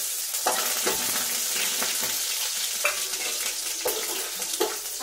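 Green chillies sizzle steadily in hot pickle masala on a low-flame stove, with a constant frying hiss broken by a few scraping stirs of a spoon in the pan.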